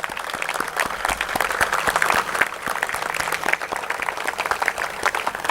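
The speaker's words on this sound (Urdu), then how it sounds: "آپ لوگ ایک دفعہ کھڑے ہو کے بھرپور تالیوں" An audience claps at a Blue World City event, with dense, sustained applause filling the hall at a steady level.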